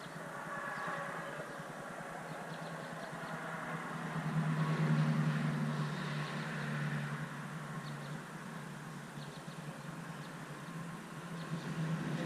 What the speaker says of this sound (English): another truck's passing by.